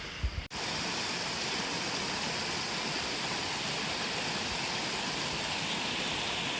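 The Cascade de Planque waterfall is a dense, even rush of falling water that starts abruptly after a couple of faint thumps and then holds loud and constant.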